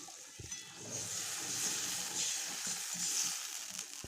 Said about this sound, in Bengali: গ্রেভিটা একদম চড়বড় করে ফুটছে